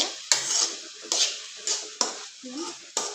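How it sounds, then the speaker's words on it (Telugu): Tamarind chutney being stirred in a pot, with a spoon scraping and clinking against the metal in about five regular strokes at close range, and no voices. "కలుపుకోవాలి కలుపుకోవాలి ఫ్రెండ్స్ మంచిగా"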